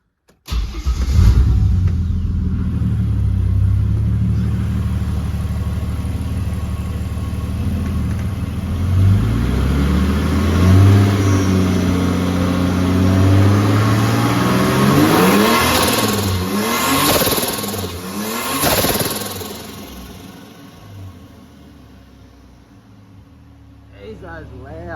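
A Barra-engined Nissan Patrol fitted with a bigger turbo and an exhaust reducer, already hot, runs loud and close, its deep engine note rising and falling through several revs before settling back toward idle.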